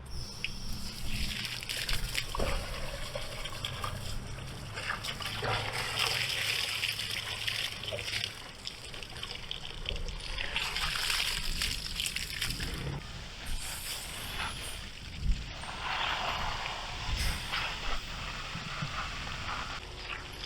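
Water gushing and splashing steadily as pond filter parts are rinsed outdoors beside a pond, with outdoor insect chirping in the background and a brief louder splash near the end.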